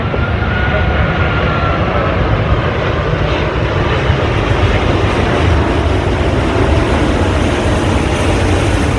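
A heavy aircraft lands at Sydney Airport with a loud, continuous broadband engine roar that fills the whole stretch, steady and close with no clear breaks.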